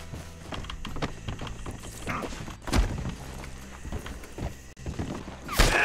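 Horse hooves clop at a walk in the Western role-play video game Red Dead RP, an uneven series of soft thuds layered over game ambience and background music.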